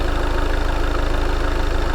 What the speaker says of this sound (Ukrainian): Якщо серйозно мотор працює рівненько